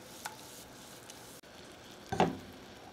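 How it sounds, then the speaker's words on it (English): A pan of heavy cream and cream cheese sauce simmers quietly while a utensil stirs it, giving a faint soft bubbling and a single brief wet scrape of stirring near the end. "you're going to bring this to a simmer"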